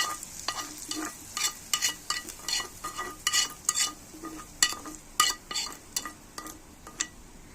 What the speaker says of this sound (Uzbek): Va yaxshilab aralashtirib olamiz.